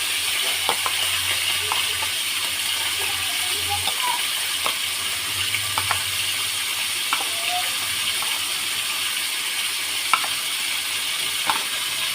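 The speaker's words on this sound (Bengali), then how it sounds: "মাছগুলো একটু পাশে মতো ভেজে নেবে" Prawns frying in a pan for a Bengali kochu loti chingri dish: a steady, close sizzle runs throughout, broken by occasional light clicks and scrapes from stirring, with no talking.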